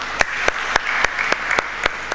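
An audience at an organisation's gathering claps together in a continuous, dense wash of applause with sharper individual claps standing out at regular intervals.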